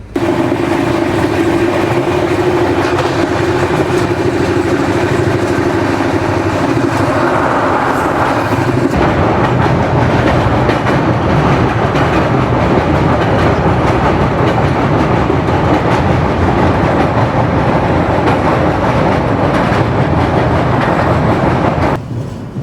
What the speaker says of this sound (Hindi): अपने ट्रेन का अराइवल हो रहा है वलसाड रेलवे स्टेशन पे।